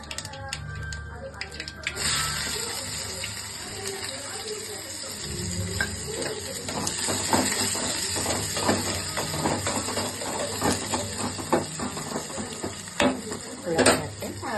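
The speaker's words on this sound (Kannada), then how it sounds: "ಸಾಸಿವೆ ಜೀರಿಗೆ ಚಟಪಟ ಅಂದ್ವಂದ್ರೆ ಈಗ ಅದಕ್ಕೆ ಬೆಳ್ಳುಳ್ಳಿ ಹಾಕಿ ಉಳ್ಳಾಗಡ್ಡೆ ಹಾಕ್ತೇವೆ" Garlic and onion fry in a pan with mustard seeds and cumin for ghee rice: a continuous close sizzle with scraping stirs and clinks of a utensil against the pan, while a voice talks over it.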